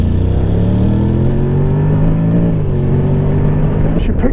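A Honda Forza 750 scooter pulls away hard in sport mode, its engine note climbing steadily in pitch as it accelerates, loud and close, then easing off near the end.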